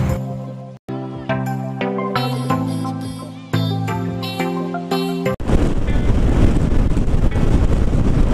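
Wind roar buffets the microphone while a Honda Forza 300 scooter cruises at about 110 km/h, arriving as a loud, steady broadband rush in the final three seconds after tonal music-like sound.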